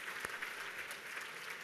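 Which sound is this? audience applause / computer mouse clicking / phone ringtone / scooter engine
audience applause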